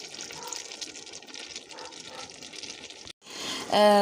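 9% vinegar pours steadily into a pot of boiling cabbage and vegetables with a soft, continuous trickling splash, followed by a brief pause and a louder gush at the end.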